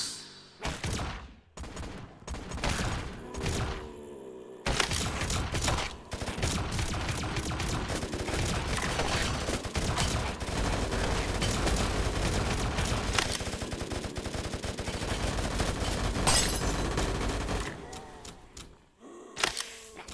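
Rapid bursts of gunfire in a VRChat game, loud and dense, with sparse shots at first, then a long sustained stretch of automatic fire that tapers to scattered shots.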